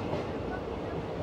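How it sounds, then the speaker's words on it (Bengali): A train rolls onto the Pamban rail bridge near Rameswaram, giving a brief, steady, loud rumble heard from on board. "আমাদের ট্রেন এখন পম্বন স্টেশন পার করলো, এবার শুরু হবে পাম্বন ব্রিজ।"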